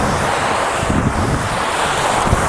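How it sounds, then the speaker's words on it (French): Steady wind buffeting a microphone outdoors during an exercise session, a continuous loud rumbling roar with gusty low-end thumps and no voices. "Il y a un petit vent, donc j'espère que vous m'entendez bien au niveau du micro"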